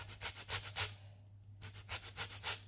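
Lemon peel is grated over biscuit dough, a close, rhythmic rasping in quick strokes that pauses briefly and then resumes over a low steady hum.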